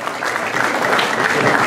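Loud, sustained applause from an audience at a ceremony giving posthumous recognitions for an anniversary, a thick, even wash of clapping with a voice faintly underneath.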